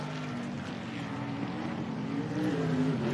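A race car's engine running rough and misfiring during a speedboat-and-car race event at the Don River Dash, a steady ragged mechanical drone heard from a distance with wind noise and no voices over it.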